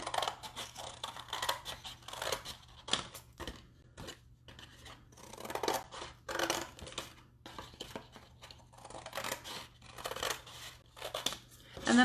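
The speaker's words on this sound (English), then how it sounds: "So now I'm just going to cut the sides off my box." Scissors cutting the cardboard sides off a Girl Scout cookie box, a series of crisp snipping and crunching cuts in uneven bursts with brief pauses between strokes, close and fairly loud.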